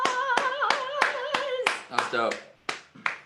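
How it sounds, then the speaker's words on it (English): A small group claps in a few sharp, closely spaced beats during an online office-hours session, a person speaks briefly over the clapping, and the sound is close and loud. "give her some sexy applause"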